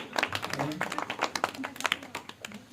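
Lively clapping from an audience at a motivational talk, dense irregular hand claps rising and falling in bursts, with voices mixed in beneath.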